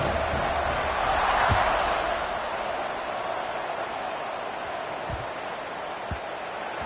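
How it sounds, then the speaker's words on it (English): A football stadium crowd buzzes after a score, a broad roaring wash of distant voices that swells briefly then settles into a steady murmur, with a few faint thumps underneath. "this crowd is buzzing after that last score"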